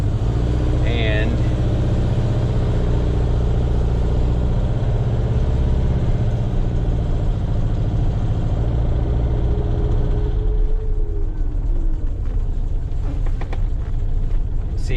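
A 1961 VW Beetle engine drones steadily and loud while the car is driven, a continuous low rumble that shifts in tone about two-thirds of the way through.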